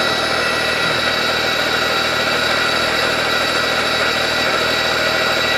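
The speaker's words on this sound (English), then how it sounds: "Basically, you have the noise of the brushless motors, but you don't have any internal combustion engine." An EGO 24-inch self-propelled two-stage battery snow blower runs its auger on brushless motors, making a steady, loud, even whir and hum that holds without change from start to end.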